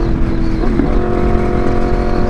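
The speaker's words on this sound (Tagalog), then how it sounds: "traffic na no." Steady, loud morning road traffic in Mindanao Ave, with cars and motorcycles idling and droning close by as a continuous engine rumble, no talk.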